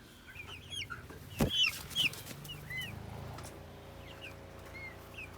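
Chickens cluck softly nearby, with a sharper squawk or two and chirpy bird calls scattered over a quiet farmyard background.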